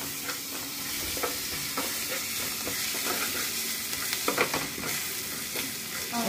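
Ginger and curry leaves fry in hot oil for spicy kara pongal, a steady crackling sizzle with scattered pops and light stirring scrapes, close and continuous with no voices.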